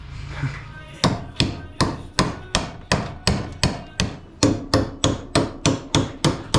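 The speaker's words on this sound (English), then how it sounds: "I'm just gonna keep hammering it out for now" Steady, evenly spaced hammer blows on metal while restoring a Nissan 240SX, about two strikes per second, each a sharp ringing clang, close and loud with no talking.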